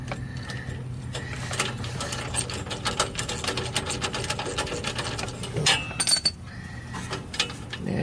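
Rapid ratchet clicks come in bursts as 10 mm exhaust flange bolts are tightened on a VW Type 3, close and crisp, with short pauses and metallic clinks between runs.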